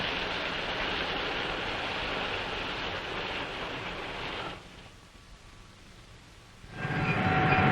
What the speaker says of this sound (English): passenger cars are pulled through an automatic washing machine where they're scrubbed and polished